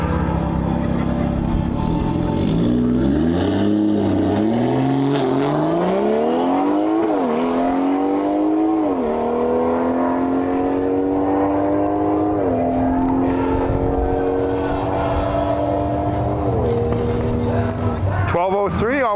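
A BMW 340i with a B58 engine on bolt-on modifications launches and accelerates down a drag strip at a season-opener race, its engine note climbing through several gear changes, loud and sustained, with a commentator talking over it.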